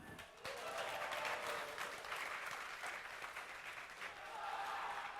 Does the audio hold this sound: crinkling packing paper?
no